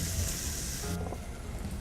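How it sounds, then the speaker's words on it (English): Onion going into hot garlic and olive oil in a pan, giving a steady broadband sizzle that hisses loudly and then drops a little as the pieces settle, with no talk. "Next up, we're going to add our onion. Go right in with the onion."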